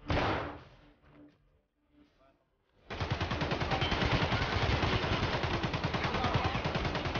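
Gunfire in Escape from Tarkov's Factory map: a few sharp shots and scattered thuds, a pause, then a sustained, loud automatic burst of rapid, evenly spaced rounds that keeps hammering to the end.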